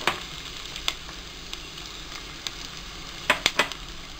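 Chopped onion and green chili sizzle in a pan, a faint steady frying hiss broken by a few sharp clicks and spatters, with a small cluster of taps near the end.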